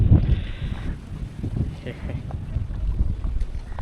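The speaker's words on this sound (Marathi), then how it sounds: "या साईडला वारा तर बघा किती आहे" Wind gusts at Goregaon Dam, a reservoir site, batter the microphone with steady low rumbling buffets across the whole stretch, loud and close, with faint background noise from the waterside.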